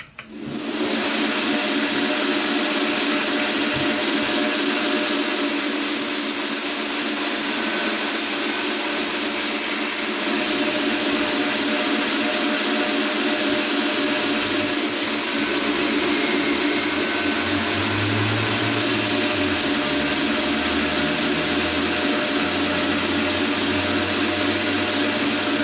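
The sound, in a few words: rough grinding a knife blade on a grinder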